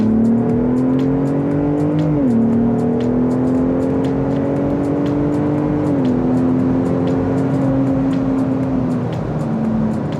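A Steeda-tuned Ford F-150 Raptor with a front intercooler pulls hard in sport mode, its engine droning loud and close as it climbs steadily through the revs, with two distinct gear shifts dipping the pitch before it keeps rising.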